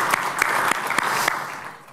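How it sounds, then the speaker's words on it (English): An audience applauds panelists at a private equity investment panel, a steady wash of many hands clapping close by with a few sharper claps standing out, tapering off toward the end. "join me in a round of applause for our panelists,"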